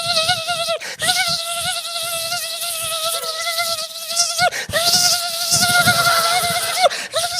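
A voice imitates bees buzzing around someone's ears, a continuous nasal whine that wavers in pitch, broken by two short breaths, loud and close.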